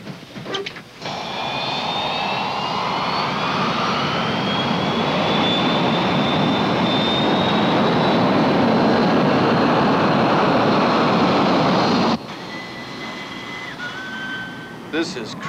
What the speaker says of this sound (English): Obviously, we'll be using maximum thrust for takeoff